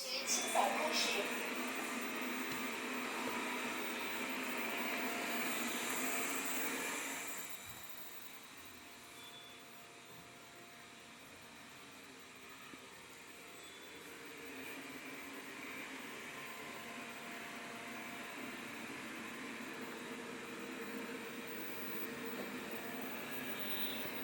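Xiaomi Mop P robot vacuum cleaner running indoors, a steady whirring motor hum that drops in level partway through and then rises again, moderately close.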